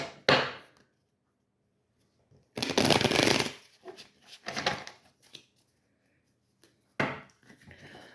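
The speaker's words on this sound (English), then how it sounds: "I'm gonna pull some tarot on this" Tarot cards being shuffled by hand in sharp riffling bursts, the first brief, then a longer riffle and a few shorter flurries separated by silence, close and clear.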